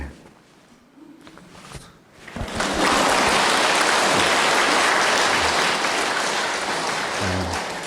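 After about two quiet seconds, an audience at a Lenten sacred-music lecture given by a priest bursts into loud, sustained applause that fills the rest of the clip evenly.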